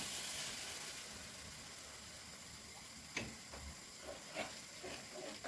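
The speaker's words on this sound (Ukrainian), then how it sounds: "І смажу до готовності яєць." Eggs sizzle quietly in a pan, a soft steady hiss with a few light clicks and taps.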